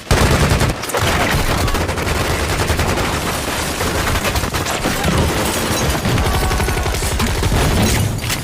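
Heavy gunfire in a film shootout as troops attack a hut, with dense overlapping bursts of shots rattling loudly and almost without pause, after one sharp break near the start.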